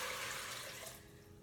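Three cups of water poured from a vessel over dates in a cooking pot, a brief steady splashing rush that fades slightly toward the end, heard alone at close range.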